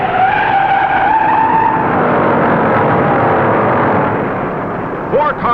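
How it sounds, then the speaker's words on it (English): Stock cars skid across the track at the 1960 Daytona 500 in a long, loud tire screech over roaring engines, fading slightly before a brief final squeal. "Four cars slide all over the track, and only luck keeps more of them out of danger."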